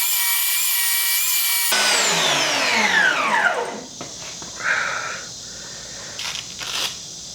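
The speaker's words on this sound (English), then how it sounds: "I'm going to hit it with the sander a little bit and take this edge down" A power sander with 80-grit paper works the edge of a wooden epoxy-inlay end table. A loud, high motor whine spins down in a falling sweep, followed by softer intermittent scraping and rubbing.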